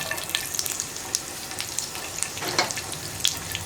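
Chopped garlic sizzles in hot oil with cumin seeds for a potato masala, a steady close hiss broken by sharp crackling pops every second or so.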